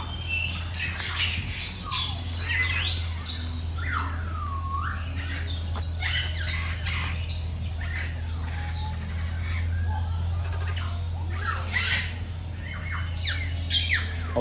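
Caged parrot-like birds at Bangkok Safari squawk and chirp in a steady, overlapping chorus, with shrill calls rising and falling close by over a constant low hum.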